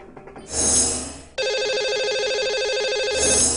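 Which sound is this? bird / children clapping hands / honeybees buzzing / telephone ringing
telephone ringing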